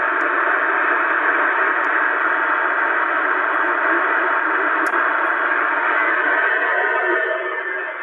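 A QT 60 CB radio with noise reduction switched off gives a constant, loud, band-limited hiss of static that runs unbroken and fades slightly at the end.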